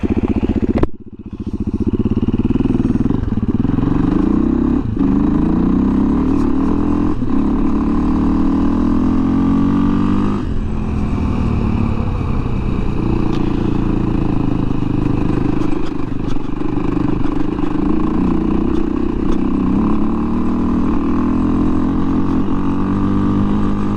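A 2017 Beta 500 RR-S dirt bike rides off-road, its single-cylinder engine droning steadily close by with rising and falling revs and occasional clatter, no talk over it.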